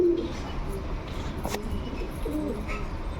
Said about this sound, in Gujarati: હજી 2 કબૂતર બેઠા છે